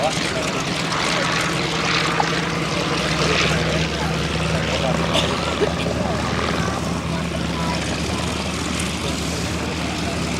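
A propeller aeroplane flies at an RAF Benevolent Fund airshow at East Kirkby, its engine drone loud and continuous with a steady low hum, while a commentator's voice runs over it throughout.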